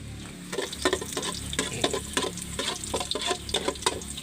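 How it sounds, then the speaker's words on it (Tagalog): Food being stirred in a hot frying pan, with a steady sizzle and repeated scraping strokes in an uneven rhythm, close by with no talk. "Siyempre haluin po natin"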